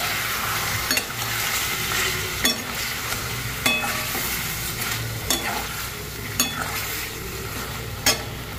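Mutton sizzles steadily in oil in a pan with spices, salt and turmeric, with periodic scrapes and clinks of a spoon stirring every second or so, loud and close, no voices.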